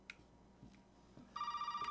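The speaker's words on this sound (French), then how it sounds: "Le téléphone a sonné." Telephone ringing in the Resident Evil 7 video game, a steady electronic ring that starts partway through after a few quiet soft knocks, fairly loud and alone.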